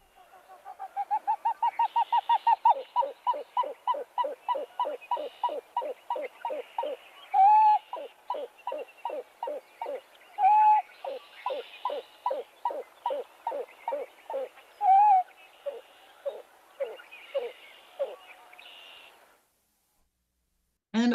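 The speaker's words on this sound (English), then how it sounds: "Pie-bill grebe, again, more often heard than seen, does this loud ow-whoop call." A long series of loud, hollow, evenly repeated cuckoo-like notes from a pied-billed grebe, with a few drawn-out whooping calls breaking the rhythm.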